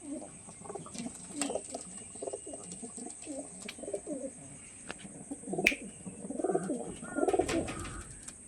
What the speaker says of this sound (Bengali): সব A1 কোয়ালিটির পায়রা